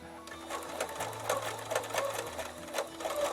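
Bernina B880 sewing machine with its stitch regulator, quilting free-motion with a lengthened stitch: a steady close mechanical whir with a rapid needle rhythm that speeds and slows, running alone.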